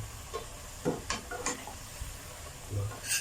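Coconut shoots are stir-fried with mushroom sauce and a little fish sauce in a pan, giving a quiet, soft sizzle broken by a few scraping strokes of the spatula and a light clink near the end.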